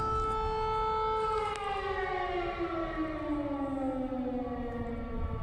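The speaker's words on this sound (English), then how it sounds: "Here's the footage letting us hear the sound of the explosions and the air raid siren." A loud civil defense air raid siren wails steadily in a war zone near Kursk, its pitch slowly sliding downward as it winds down, with no other sounds over it.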